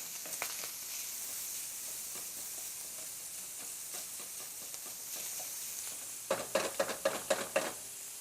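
A spoon or spatula chops stuffing in a hot pan over a soft frying sizzle; scattered taps throughout, then a quick burst of about six sharper chopping knocks close together near the end.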